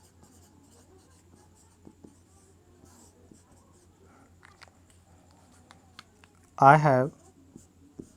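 Chalk or marker scratches faintly and intermittently on a board during an English grammar lesson on assertive and interrogative sentences, with a brief loud burst of speech near the end.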